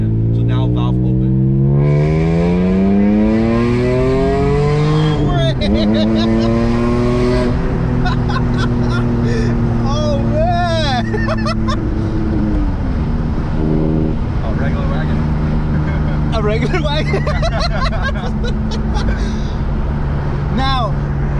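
A 2001 BMW M3 Touring station wagon revving hard with its exhaust valve open, engine pitch sweeping up and down through several loud pulls, close and continuous, with people talking over it.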